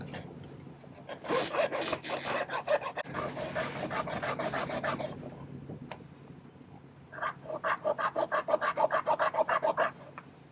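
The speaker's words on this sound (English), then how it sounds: "Clean this up with the file just a little bit." Close hand file rasping over solder on a handmade pendant trillion setting, in quick back-and-forth strokes in two bursts, the second set sharper and evenly paced, with no talking.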